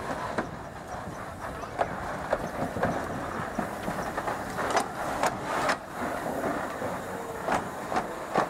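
A steam locomotive on a nostalgic excursion line in Alsace reverses, with rhythmic clanking and clicking wheels, short sharp metallic knocks and a constant hiss, all close and steady.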